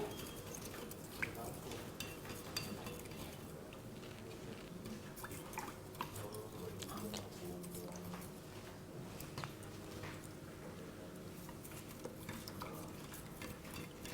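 A spoon stirs salt steadily into a container of water, soft scraping and swishing that continues for a long stretch, close and quiet.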